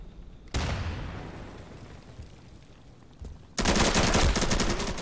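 Gunfire in the video game Insurgency, one heavy close shot with a long reverberant tail, then a loud rapid burst of automatic fire sprayed continuously to the end.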